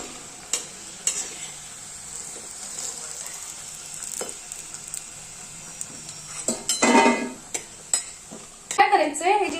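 Dough pieces for churma laddu frying in oil, a steady sizzle with utensil clinks and scrapes against the pan, rising to louder stirring bursts near the end.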